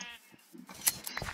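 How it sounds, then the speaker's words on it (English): Minecraft sheep bleat a few times in a short burst, fairly clear and close, with other soft game sounds around them. "We have some sheep. We always need more wool."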